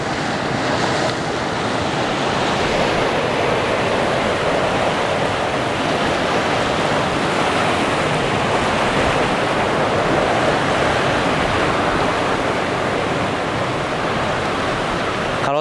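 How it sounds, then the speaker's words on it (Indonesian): Ocean waves surging repeatedly on a shore, a loud continuous roar of surf with wind buffeting, no voices. "langsung ombak bertubi-tubi"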